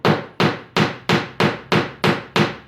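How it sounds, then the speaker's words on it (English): Eight sharp hammer taps setting a wooden piece of a piano-themed vase, evenly spaced and close by, each ringing briefly before the next strike. "we use a little love tap from the hammer"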